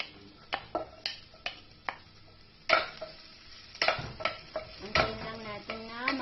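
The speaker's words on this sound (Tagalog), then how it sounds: "Ngayon, nainit na ang mantika. Ilagay natin ang bawang." Garlic sizzles in hot oil at the start of a pakbet Ilocano, with scattered utensil clicks and scrapes against the pan, close by, sharp taps over a quiet frying hiss.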